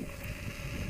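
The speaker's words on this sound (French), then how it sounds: "parce qu'il y a pas mal de vent" Wind buffets a microphone outdoors, a loud, steady low rumble and roar filling the whole second without a break.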